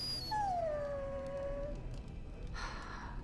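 A dog in the Dragon Age: Origins video game gives a single drawn-out, falling whimper lasting over a second, clear above a low ambient game background.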